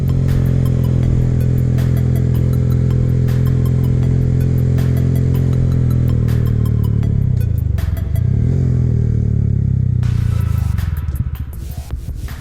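A Honda Grom motorcycle engine drones loud and close as it climbs a hill, holding a raspy pitch, then dipping and rising again before fading out near the end.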